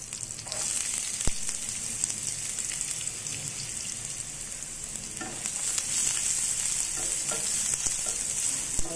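Onions frying in a pan for a cluster beans curry produce a continuous hissing sizzle, with occasional stirring scrapes and small pops throughout.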